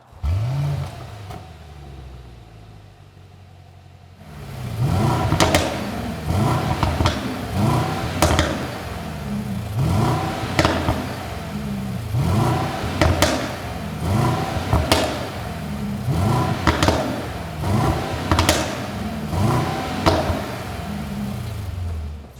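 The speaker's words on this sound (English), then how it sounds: "we'll put the car straight into race mode" Mercedes-AMG GLE SUV in race mode, its engine revving loudly in repeated sharp bursts after a quiet start, with thumping pops between revs, close by and no talk.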